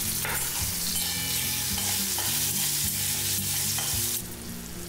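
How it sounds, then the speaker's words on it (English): Boiled amla sautés in hot oil in a pan, giving a loud, steady sizzle with repeated stirring strokes throughout and a low tonal hum beneath. "add the boiled amla and saute in oil for 2 minutes"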